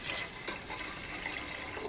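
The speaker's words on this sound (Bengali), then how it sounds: "ডালে জল দেওয়া হলো।" Water is poured from a container into mung dal in a cooking pot, a continuous splashing, gurgling pour that lasts about two seconds at moderate loudness.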